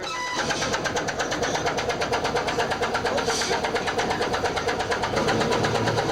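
The engine of a small fishing-style boat on a ferry ride to Tasiusaq chugs steadily with a fast, even putter, running continuously at close range without any voices.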